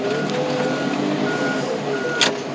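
A truck reverses in a yard, its backup alarm beeping in a steady repeating pattern over the low rumble of the engine, with a brief hiss of air near the end.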